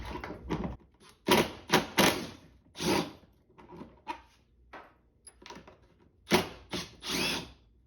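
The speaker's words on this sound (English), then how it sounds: "In the interest of time, I'm going to go ahead and use a drill." A power drill driving in bolts whirs in short bursts, several quick whines separated by pauses, close by and alone without talk.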